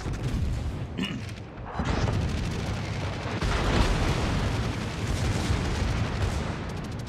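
Naval guns firing in World of Warships, with booming salvos and rumbling blasts layered over continuous loud low-end roar, a sharp cluster of reports early on followed by sustained heavy gunfire.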